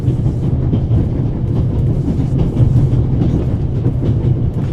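A train rolls through the Alps in the game The Raven, a loud, continuous near rumble with a steady rattling clatter of wheels on rail and no pauses.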